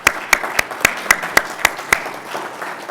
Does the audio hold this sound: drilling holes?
no